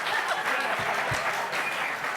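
A studio audience bursts into steady applause, a dense wash of clapping that fills the room evenly throughout.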